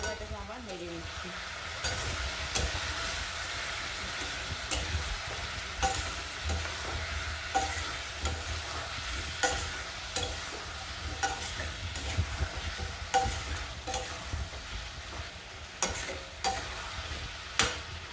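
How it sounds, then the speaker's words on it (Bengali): A spoon stirs chicken curry in a pan after turmeric and Kashmiri chilli powder go in, scraping in repeated strokes over a steady sizzle of frying, with no voices. "বড় চামচের 2 চামচ হলুদ গুঁড়ো। দিয়ে এটাকে আবার নেড়ে নিচ্ছি।"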